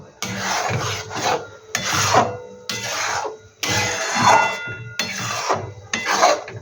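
A spoon scrapes and rasps repeatedly through a thick mango kalakand mixture in a pan on a gas stove, in close, regular strokes separated by short pauses.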